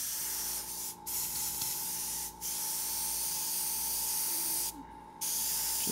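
An airbrush sprays a light coat of paint through stencils on a zombie-themed painting, a steady close hiss with a constant tone, briefly interrupted three times as the trigger is released.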